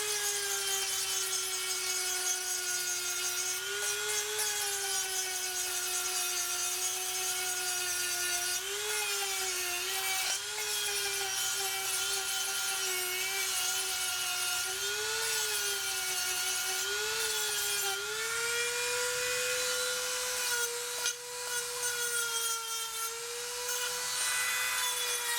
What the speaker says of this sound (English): I decided I'm going to break down and use the woodworker's favorite tool, the Dremel tool